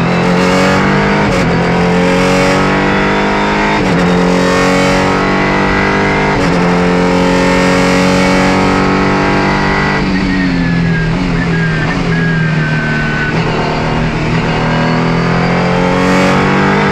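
A Ligier JSP4 race prototype driven fast on a warmed-up track, its engine loud and close, revving hard through rising and falling gear pulls with upshifts and downshifts throughout.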